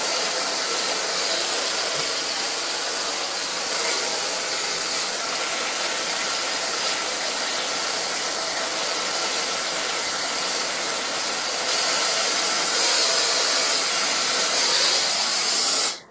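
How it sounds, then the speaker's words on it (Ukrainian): A handheld hair dryer blows steadily and loudly for the whole stretch while hair is dried with a round brush during an at-home styling session, giving a continuous airy roar with no pauses. "зараз я включу фен"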